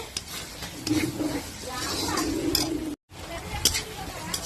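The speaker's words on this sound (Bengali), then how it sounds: "মশলাটাকে আবার ভালোভাবে কষিয়ে নেব" Spice paste for ghugni stirred and fried in a pan, a soft sizzle with scraping stir strokes and occasional utensil clinks, steady and close, briefly cut off near the end before resuming.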